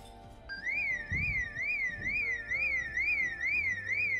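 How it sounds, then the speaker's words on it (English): A car alarm goes off in a video game, a loud electronic tone warbling steadily up and down in a fast repeating cycle, with muffled thumps underneath. "Did we just set off an alarm?"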